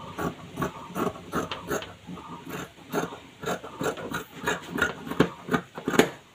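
Scissors cut through fabric for a round-neck maxi dress in a steady, rhythmic series of rasping, crunching snips, close and moderately loud, with no voices.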